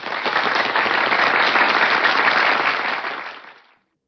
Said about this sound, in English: When you hear audience applause like this,